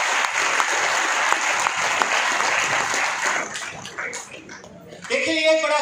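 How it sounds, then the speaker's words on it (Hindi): An audience at a business seminar claps in steady applause that thins and fades toward the end before a louder burst of sound. "तालियां कम बज रही है और मैं महसूस कर रहा हूं क्यों बज रही है।"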